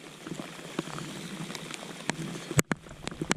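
Rain falling on a lake, a soft, steady patter of drops with a few sharper close taps and knocks, fairly faint and without talk.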